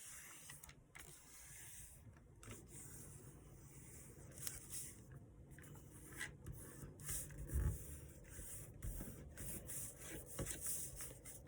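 Sheet of paper being squash-folded while making a paper model of a Sukhoi Su-57 Felon fighter jet, with soft continuous rustling and crinkling at close range plus a few sharper crease presses, no talking.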